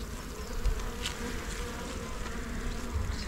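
A steady, dense buzzing of many honeybees at a hive, close and continuous, with a few individual insects whining past.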